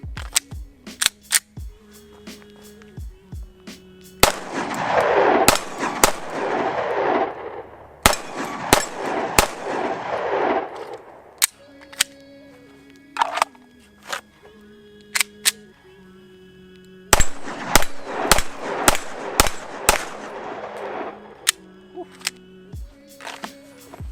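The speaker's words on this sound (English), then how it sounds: "I'm gonna shoot 6 rounds out of Staccato, 6 rounds out of the M&P" Pistol shots from Staccato CS and Smith & Wesson M&P handguns fired at a range, a dozen or so sharp cracks in quick groups with ringing echoes and mechanical clatter between strings.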